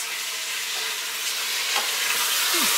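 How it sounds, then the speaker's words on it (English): Pork carnitas sizzle and fry steadily in a pan, a dense continuous crackle that holds an even level throughout with no talking. "I can hear them sizzling, can you?"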